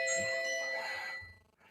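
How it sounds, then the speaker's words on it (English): An electronic doorbell chime rings indoors in a home, its sustained bright tones sounding quietly on their own before fading out. "that's my doorbell."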